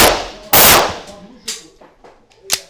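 Gunshots at a gun shop event: a loud, sharp report early on with a long ring-out, then fainter clanks and one more sharp crack near the end, with no speech over it.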